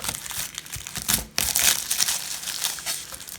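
A knife cuts off the back of a large garlic head with close, crackly, crunching sounds that run continuously, dipping briefly before a sharper crunch.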